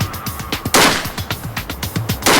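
Rapid gunfire aimed at a target in an outdoor field, a fast string of sharp, loud shots in quick succession with a few heavier blasts mixed in, close and dominant.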